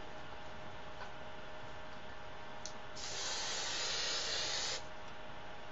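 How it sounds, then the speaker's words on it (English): Hairspray from an aerosol can hisses onto freshly curled, still-hot hair in a steady burst lasting almost two seconds, with a quick faint puff just before it. "You should hairspray your hair when it's hot."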